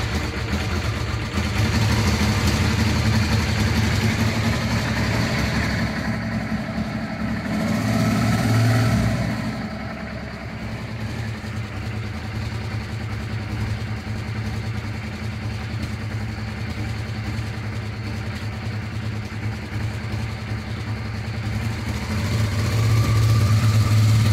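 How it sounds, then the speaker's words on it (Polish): A cold Honda Transalp motorcycle engine idles unevenly, its low rumble dipping and surging, quieter in the middle before picking up again toward the end. "mam zimny silnik, więc będzie Honda trochę prykała sobie"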